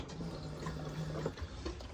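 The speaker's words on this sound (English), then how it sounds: "There you can see the water getting pushed through." A motorhome toilet's flush button sends water rushing through the bowl, a low steady gurgling flow with a faint hum, close and moderately quiet.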